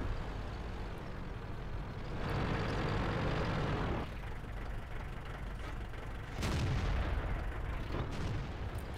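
A World of Tanks tank fires its cannon at cover in heavy booming blasts, two or three deep rumbling shots that each swell and fade over an engine-like drone. Nobody speaks.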